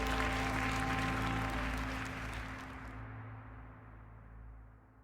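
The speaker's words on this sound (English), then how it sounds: "The crowd cheers Edwin's call to action" Crowd at an 1864 political convention cheering and applauding, a loud sustained roar of clapping that gradually fades out over several seconds.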